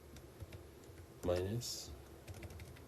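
Keys on a computer keyboard tap in quick, light clicks during a statistics calculation, with a brief burst of speech partway through.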